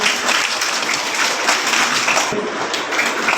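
Audience applause at a seminar held at Mind Mantra Abacus School in Hatgobindapur, dense, steady clapping from a room of people lasting several seconds.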